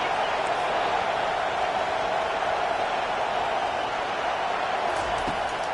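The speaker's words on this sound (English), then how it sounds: "This crowd bringing the energy and noise early." A dense, steady roar of a large stadium crowd, a constant wash of noise with no distinct voices standing out.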